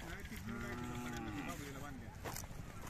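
Cattle moo at a village fair where Khillar bulls, bullocks and cows are being sold, the long lowing calls ringing out close and loud over a busy crowd murmur.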